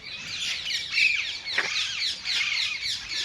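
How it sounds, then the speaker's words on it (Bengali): Parrots call in the early morning at Hazarduari, Murshidabad, a flurry of quick, high chirps and squawks from several birds overlapping at moderate distance, with no people talking. "এখানে অনেক টিয়া পাখি আছে,"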